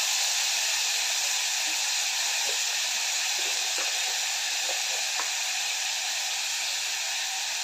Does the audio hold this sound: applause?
no